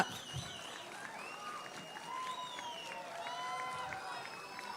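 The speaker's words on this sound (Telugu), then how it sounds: "ఒక్క రౌండ్ చప్పట్లు గట్టిగా" An audience at a Vijayawada meeting for International Disabled People's Day gives sustained, steady applause welcoming Chief Minister Chandrababu Naidu. The crowd sounds fairly distant, with voices and cheering mixed into the clapping.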